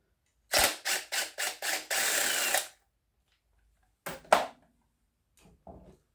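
A power tool zips a bolt out of an engine in a series of quick, loud bursts followed by a longer run, then two short bursts after a pause and faint clatter at the end.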